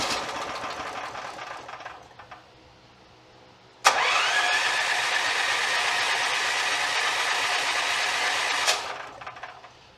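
A small generator engine, just after carburetor repair, bursts into life with a sharp start and runs loudly and steadily for about five seconds before cutting out, with quieter mechanical rumbling before it fires.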